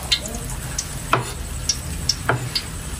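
Food sizzles steadily in a hot frying pan, browning to a golden color during a home cooking session, with a soft continuous crackle broken by a few sharp spatters and light utensil clicks, no talking.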